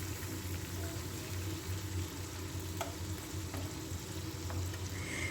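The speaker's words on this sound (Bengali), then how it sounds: "চিংড়ি মাছটাকে খুব ভালো করে ভেজে নেবো, খুব ভালো করে ভাজবো" Prawns fry thoroughly in a pan for a bottle-gourd prawn curry, giving a soft, continuous sizzle with a low bubbling undertone and a few faint clicks, fairly quiet and steady.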